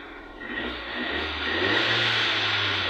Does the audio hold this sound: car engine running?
yes